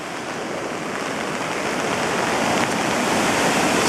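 A river or waterfall in Japan rushes loudly and steadily nearby, a dense broadband roar of churning water that swells slightly toward the end with no voices over it.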